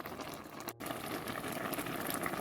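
Bombay chilli and naga pickle mixture with sugar bubbles on the heat, a dense, steady burbling boil close by that barely pauses for a moment before carrying on evenly.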